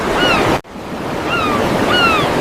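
Sea surf washing steadily under strong wind during a voyage home, with a brief dropout partway and faint high bird-like whistles drifting over the roar.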